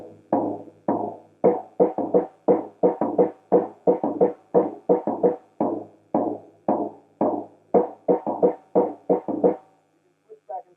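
Drum kit playing a 6 against 4 polyrhythm, a steady stream of sharp close hits in an even repeating pattern for about ten seconds, then stopping.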